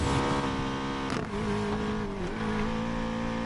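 BMW engine in the racing game Need for Speed Payback during a police pursuit, loud revving with pitch climbing and dropping through gear shifts, plus a brief tire squeal, no talking.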